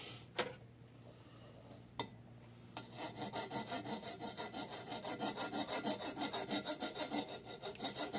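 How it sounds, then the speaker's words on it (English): A hand file rasps against an engine valve from an old Chevy C-10, a few separate clicks followed by a steady run of quick, even strokes, close and fairly faint. "So rotating the valve from the back side while filing it from this side"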